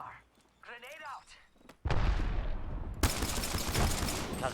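Video game gunfire breaks out: after a quiet stretch with a brief voice, loud sustained bursts of shots and fusillade erupt abruptly and keep going, intensifying near the end, dense and close.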